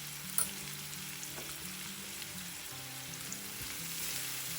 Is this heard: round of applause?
no